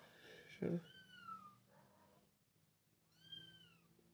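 A pet cat meowing indoors, several drawn-out rising meows with a short thump between them, fairly close and moderately loud.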